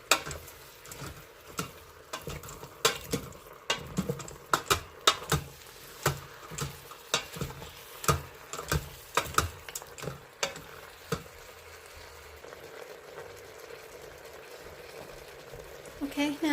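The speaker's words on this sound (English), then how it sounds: "Just adding a little bit more garlic powder. It's my favorite. And let's give it a good mix." Seasoning with added garlic powder is stirred into braised pork ribs in an Instant Pot, making a rhythmic series of close scraping and tapping strokes that fade to quieter clatter near the end.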